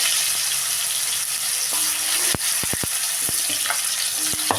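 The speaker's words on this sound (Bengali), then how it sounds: "আলুটা দিয়ে আমি আলুটা ভেজে নিচ্ছি" Thin potato slices fry steadily in a pan for a fish curry, giving a close, even sizzle with a few sharp utensil clicks and taps.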